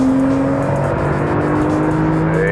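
A Porsche 991 Turbo with a 520-horsepower 3.8-liter turbocharged flat six and PDK transmission accelerates hard on a racetrack. The engine drones loud and close, its tone climbing steadily through a continuous pull.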